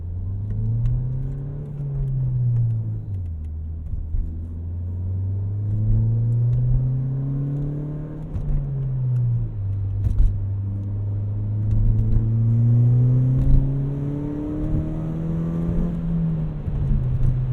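A tuned 240 hp Ford Fiesta ST with 240,000 miles revs hard under acceleration from inside the cabin, its engine drone climbing in pitch through several gears with short drops at each shift, loud and continuous.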